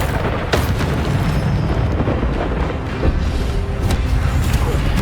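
Incendio fire spell cast in the Hogwarts Legacy video game, loud booming bursts and whooshing flames over dense combat noise, with sharp hits near the start and again past the middle.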